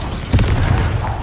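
A Confringo blasting spell bursts in Hogwarts Legacy with a sudden loud boom and a deep rumbling tail, close and heavy over the game's ongoing ambience.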